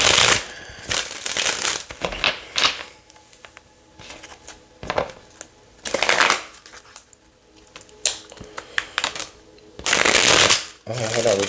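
A deck of tarot cards being shuffled by hand, in several brisk riffling and sliding bursts separated by short pauses, close to the microphone.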